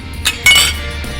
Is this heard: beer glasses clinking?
yes